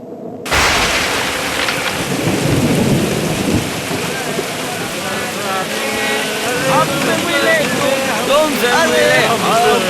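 Heavy rain pours steadily on a stormy night, with rumbling thunder rolling through from the start and a dense, constant wash of rainfall continuing throughout.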